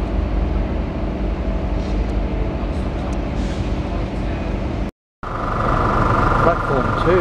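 A Westlander passenger train pulls into a Brisbane platform, a continuous loud rumble of engine and wheels that breaks off briefly and then returns with a higher tonal whine near the end, with no talking.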